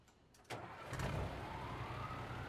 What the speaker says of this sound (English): let's go ahead and start up the truck here